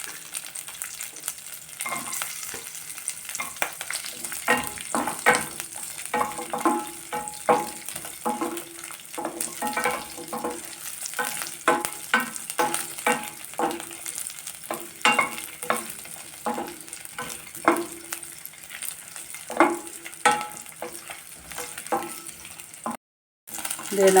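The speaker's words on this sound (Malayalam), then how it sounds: "ഇത് നമ്മുടെ പച്ചമുളകും വെളുത്തുള്ളിയൊക്കെ മൂത്തിട്ടുണ്ട്" Green chillies and garlic sizzle steadily in a pan while being stirred, with frequent scraping clicks of the spoon throughout, close and moderately loud, for coriander chutney.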